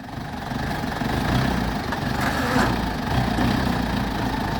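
A tractor-type vehicle engine idles steadily on a rough rural track, a continuous low rumbling drone heard close and alone with no talk.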